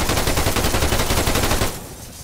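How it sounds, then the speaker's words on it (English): A rapid, loud automatic burst of gunfire from the video game Arma 3 lasts under two seconds, then cuts off abruptly and leaves a faint tail. "they're shooting at us through the smoke"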